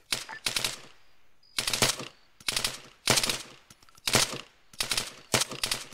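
Full-auto rifle fire in the military video game Arma 3, loud close bursts of rapid shots in about six separate strings with short pauses between them and no talking.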